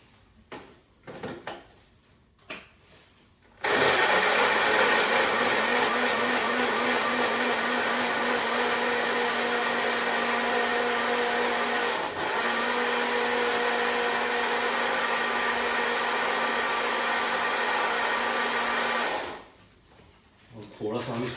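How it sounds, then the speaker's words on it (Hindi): A kitchen blender whirs loudly and steadily for about fifteen seconds as it blends a lean protein smoothie, preceded by brief handling clatter and followed by a clunk as it stops. "So I am just going to blend this."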